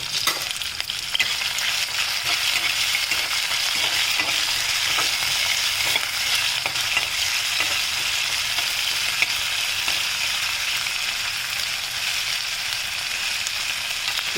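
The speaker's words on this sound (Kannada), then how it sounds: "ಬೆಳ್ಳುಳ್ಳಿ ಎಲ್ಲನೂ ಈಗ ಇದಾಗಿರೋದಕ್ಕೆ ಒಗ್ಗರಣೆಗೆ ಹಾಕ್ಬಿಡ್ತಾ ಇದ್ದೀನಿ" Garlic frying in hot oil as a tempering for village-style kattu saaru, a steady bright crackling sizzle with light stirring taps, close and continuous without talk.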